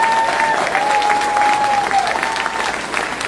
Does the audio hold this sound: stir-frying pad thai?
no